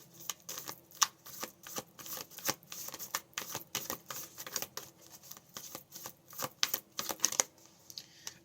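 Moonology oracle cards being handled and shuffled during a reading, heard as a steady run of close, soft papery flicks and taps, with no voices.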